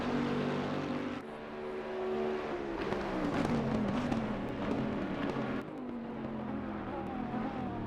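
A GT race car in Assetto Corsa Competizione accelerates hard onto the straight, its engine rising in pitch through the gears with brief dips at each shift, steady and fairly close.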